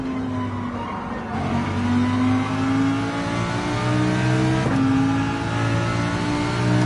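A Lamborghini engine revs hard in Gran Turismo 7 on the Dragon Trail track in sport mode, rising through loud, sustained accelerating pulls with shifts between them and a brief tire squeal, close and alone without talk.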